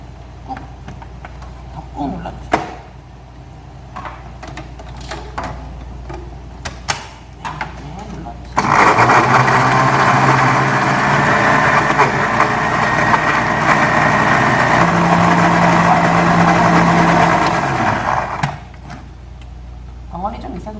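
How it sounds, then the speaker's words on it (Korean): A blender whirs loudly for about ten seconds grinding ingredients with a little water, steady and continuous, starting and stopping abruptly, with quieter kitchen noises before and after. "물을 조금만 부어주시고 믹서기에다가 갈아주시면 됩니다"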